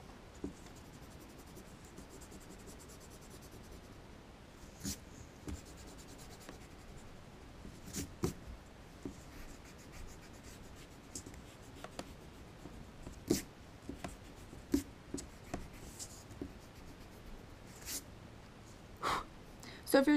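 Pencil lightly drawing lines on paper for a two-point perspective room sketch, faint scratchy strokes in short bursts with quiet breathing and occasional soft voice.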